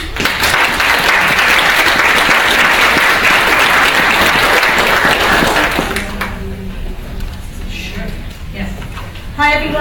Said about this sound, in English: I'd like to just give Mary a round of applause